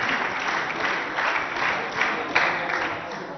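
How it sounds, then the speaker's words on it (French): A school audience applauds and cheers as a lycée student is welcomed for a singing performance, a steady broad wash of crowd clapping throughout with gentle swells in intensity. "Sous vos acclamations, on reçoit l'élève du lycée Al-Afia."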